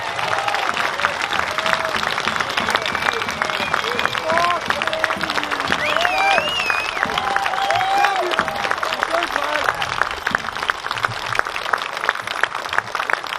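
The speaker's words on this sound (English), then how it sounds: "Give her a big round of applause, will you?" A crowd at a Melbourne gathering applauds the speaker's wife, continuous clapping mixed with scattered cheers and crowd voices running the full thirteen seconds.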